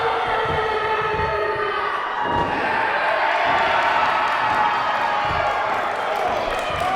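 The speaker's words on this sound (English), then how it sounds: "And the crowd making it known their feelings and emotions about Kip Stevens." A wrestling crowd at a New Age Wrestling show roars and jeers at Kip Stevens in a steady, loud swell of cheering and shouting, with an announcer talking over it.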